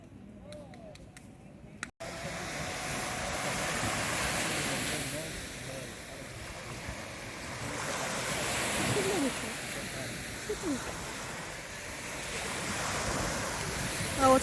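Sea waves washing onto a beach with wind buffeting the microphone, a continuous surging roar that swells and recedes, close and fairly loud after a brief quieter start.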